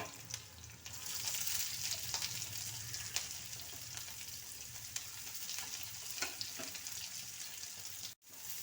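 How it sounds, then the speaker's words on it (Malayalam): Onions sauté in a pan for a jackfruit curry, giving a steady close sizzle with faint stirring scrapes and no talk. "സവാള ഇട്ട് വഴറ്റിയെടുക്കണം"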